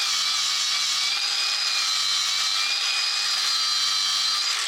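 An old wood sander with 600 grit paper runs continuously against a C6 Corvette part, giving a steady high whirring buzz with a faint low hum pulsing underneath, close and unbroken throughout.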